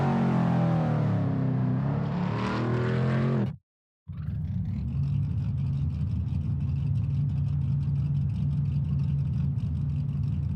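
A Shelby Mustang GT350R engine drones steadily through a practice out lap at Willow Springs in a racing sim, loud and close, with a brief total dropout near four seconds before the sustained engine tone resumes.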